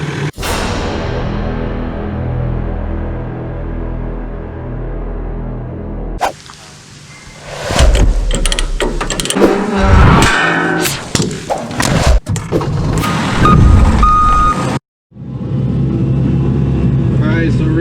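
An excavator digging out a catch basin in a boggy yard: a steady engine drone, then loud clanks, scrapes and thumps of the bucket in dirt and stone, briefly cut out before the engine hum returns.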